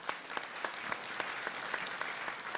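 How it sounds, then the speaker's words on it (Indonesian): A crowd at an evening religious gathering applauds immigration officials, a fairly faint, even wash of clapping with a few sharper claps standing out, heard from some distance. "sekali lagi tepuk tangan untuk semua teman-teman imigrasi"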